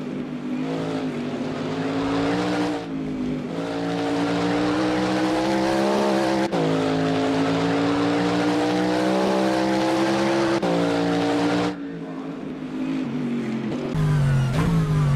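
GT3 race cars in the rFactor 2 racing game roar with loud engine notes that climb and drop through gear changes, with tire noise and no talking.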